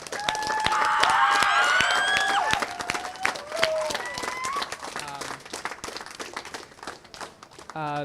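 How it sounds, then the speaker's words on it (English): Applause for the tenants at a Union Plaza anti-lockout solidarity gathering: a crowd claps close by while high whooping cheers ride over it, then the clapping loosens into scattered claps among murmuring voices. "Thank you to the tenants. Let's give them another round of applause"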